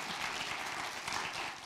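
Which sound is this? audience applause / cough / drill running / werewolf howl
audience applause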